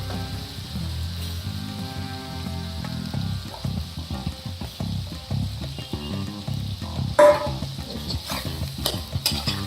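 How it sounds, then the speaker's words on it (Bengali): A spoon stirs chopped tomato with ginger paste, coriander, turmeric and chilli powder in a pan, giving soft repeated scraping and sizzling at close range, with one sharper clink near the end. "এবার ভালো করে এটিকে মিক্স করব।"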